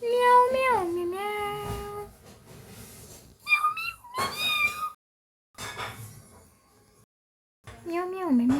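A human voice imitates a cat, producing a series of drawn-out, whiny meows in separate bursts with short silent gaps between them.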